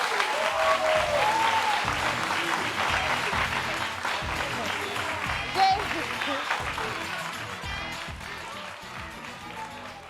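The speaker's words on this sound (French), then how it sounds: "Applaudissez." A television studio audience on a French-language show breaks into sustained, even applause, a dense wash of clapping lasting around ten seconds and slowly easing near the end, with faint voices beneath.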